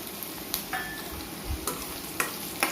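Onions and carrots sauté in a pan for wheat rava upma, a soft sizzle under a few sharp spatula taps and scrapes, close and fairly quiet.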